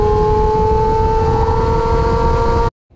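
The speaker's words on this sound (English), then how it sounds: "Back on the start-finish straight and accelerating hard" Motorcycle accelerating hard down the start-finish straight of the Dubai Autodrome club circuit, a loud, steady, high-revving engine drone with strong tonal whine held for nearly three seconds before cutting off abruptly.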